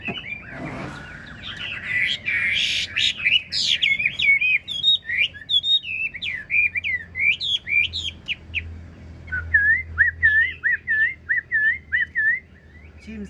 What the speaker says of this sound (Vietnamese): Nhà em ổn như thế mà có chim này vẫn hót quá ạ.